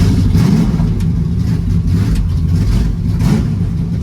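A junkyard 1970 car engine revs loud and close while being driven, a rough, throbbing low rumble rising and falling in uneven surges.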